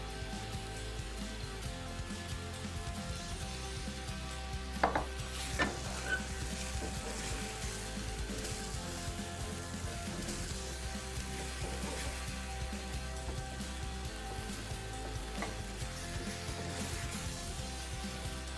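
Potatoes coated in spices sizzle and fry steadily in an oiled pan, with occasional scraping stirs and clinks of a utensil, close and continuous.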